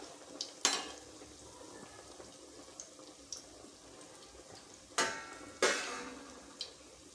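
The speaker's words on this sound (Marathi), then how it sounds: "तर दुसऱ्या साईडने सुद्धा पलटवून छान असा तळून घेऊया आपण" Snacks frying in hot oil for Makar Sankranti as they are flipped to the other side, with steady low sizzling and a few sharp spatters and scraping clatters of the flip, no talking.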